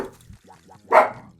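A small dog barks a few times in short sharp yips, fairly close and loud, with a brief gap between barks, alone against quiet background.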